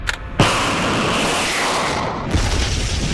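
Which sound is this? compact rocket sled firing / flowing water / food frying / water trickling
compact rocket sled firing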